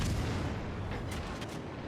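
Naval gunfire in the World of Warships Legends game, heard as a dense, rumbling boom of heavy shells with a few sharper reports rising near the end, continuous and loud.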